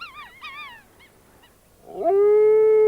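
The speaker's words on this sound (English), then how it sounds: "And wolves howl at night." Several wavering, yelping howls rise and fall at the start, then after a pause a long steady howl swells loud and close.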